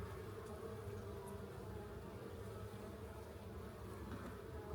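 Honey bees crawl over a brood frame holding pollen, bee bread and uncapped larvae, giving a steady, dense buzzing drone that runs unbroken throughout with no voices.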